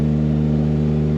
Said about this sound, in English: that's a stump grinder.